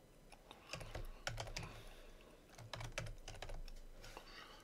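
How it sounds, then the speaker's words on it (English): Quick bursts of typing on a computer keyboard, close and fairly quiet, with clusters of key clicks separated by short pauses. "Man, I can't type today."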